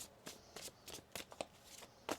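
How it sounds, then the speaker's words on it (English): Tarot cards shuffled by hand, a series of quick papery riffling bursts in an irregular rhythm, close and fairly quiet, with no talking. "One more shuffle."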